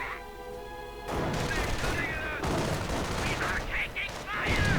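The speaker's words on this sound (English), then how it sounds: "Anti-tank gun opening up there." An anti-tank gun fires in a video game battle, sharp booming shots over continuous gunfire and explosions, with someone talking over the noise.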